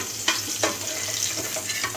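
Food is stirred and fried in a kadai held in one hand, with a steady close sizzle and a few brief scraping strokes of the spatula, no talk.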